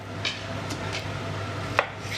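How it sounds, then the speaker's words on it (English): A knife chops chicken thighs on a chopping board, a few sparse soft cuts and knocks over a quiet steady room hum, no talking. "So we're just going to cut them into manageable pieces of the chicken"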